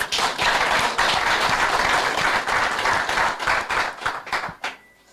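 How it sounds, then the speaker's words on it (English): Audience applause at a small business budget event, a dense burst of clapping from a crowd that holds steady and then thins into scattered claps before fading out. "So you need to give them a round of applause."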